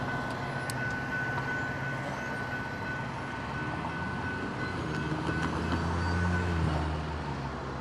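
A train rolls steadily along the track nearby, a continuous rumbling drone with faint clicks and a thin high tone, growing somewhat heavier toward the end, with no voices.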